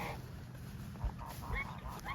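A goose honks near its nest by a fence, several faint, scattered honks and nasal calls sounding over a dense, noisy outdoor background.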